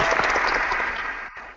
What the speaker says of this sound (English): Yeah, the applause is good.